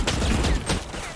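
Gunfire in the video game Valorant, a quick, loud burst of several shots fired in rapid succession, close and punchy, with no voices over it.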